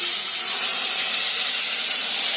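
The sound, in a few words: masala paste poured into hot oil with fried garlic, hissing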